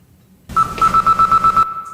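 A phone ringtone blares as a comedy sound effect: a loud electronic trill pulsing in rapid repeated bursts for about a second, alone and close.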